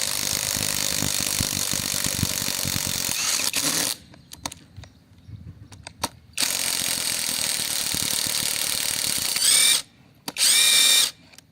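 A VVOSAI WS-Z9-CIP=SX impact driver whirs and ratchets in loud bursts while unscrewing a screw from wood, pausing twice for silence, then running again in a short final burst.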